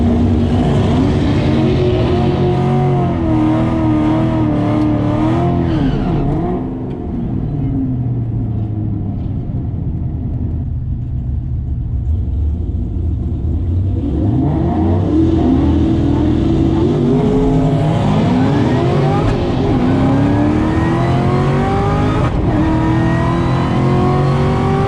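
A Shelby GT500 on a test run launches hard and accelerates, its engine rising in loud sweeping pitch through gears, dropping off briefly midway before revving up again, close and dominant throughout.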